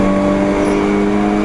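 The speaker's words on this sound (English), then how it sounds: "I don't think this car sounded particularly great" A race car at a TDC Brands GP circuit race, heard as a loud, steady engine drone with a sustained tone that fills the whole brief moment.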